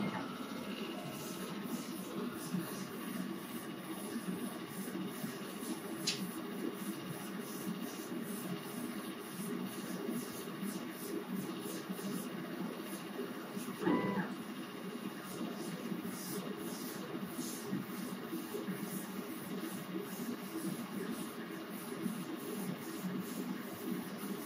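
A laser cutter runs with its lid shut while cutting pieces, giving a steady low hum and hiss throughout with faint intermittent ticks and one brief louder tone partway through.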